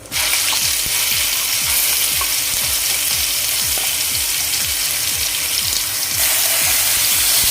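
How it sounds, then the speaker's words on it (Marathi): Green chili, garlic and tomato paste fry in a pan over a low flame, giving a loud, steady close-up sizzle with faint stirring scrapes throughout. "कच्चेपणा जाईपर्यंत आपण हे एक दोन मिनटं परतून घेऊया"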